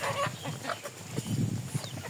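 Free-roaming village chickens cluck in short, scattered bursts at close range, with low murmuring hens in the background throughout.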